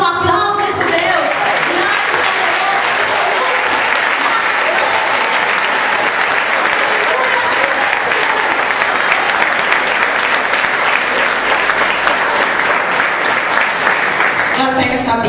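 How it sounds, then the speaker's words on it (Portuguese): Audience members at a church service break into loud, continuous applause that runs steadily throughout, with a few voices briefly audible at the start and end. "dar um aplauso a esse Deus"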